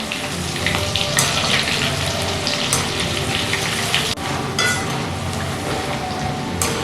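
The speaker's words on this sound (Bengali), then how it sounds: "এইভাবে আমি মিডিয়াম টু লো ফ্লেমে চিকেন পপকর্নগুলোকে ভেজে নেব।" Chicken popcorn fries in oil over a medium-low flame, producing a dense, steady bubbling sizzle that stays loud and close with small crackles and a brief dip midway.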